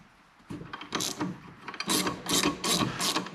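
A 15 millimeter open-end wrench breaking loose the rod cap jam nut on a 2022 Beta motorcycle's KYB fork, close metallic clicks and scraping rattles in a few short bursts.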